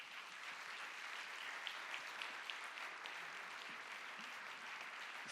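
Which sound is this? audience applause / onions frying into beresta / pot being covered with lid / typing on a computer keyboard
audience applause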